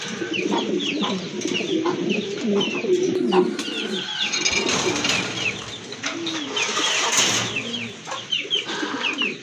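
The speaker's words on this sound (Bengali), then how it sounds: "আরেক জোড়া মুন্ডিয়ান কবুতর এখানে রয়েছে, খুবই সুন্দর" Mundiyan pigeons coo steadily in soft, rolling calls, with chirping birds around them and some faint background voices.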